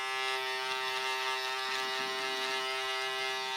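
A Brightup men's beard trimmer runs steadily, giving a close, continuous electric buzz with a strong tonal hum and no pauses or voices.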